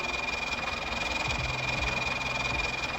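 An old tractor's engine idles steadily, parked with hazard lights on at a construction site while hauling a sand trailer. The low rumble runs continuously with a rhythmic mechanical vibration, and a faint periodic hazard-light ticking may be present.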